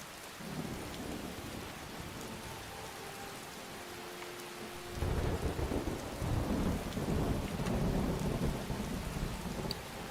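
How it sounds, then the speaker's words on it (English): Steady rain falls in a thunderstorm, with thunder rumbling through it; about halfway through the rain and low rumble surge louder and fuller, continuing without any voices. "it is mostly the thunder, I would say, that probably gets in the way of your words"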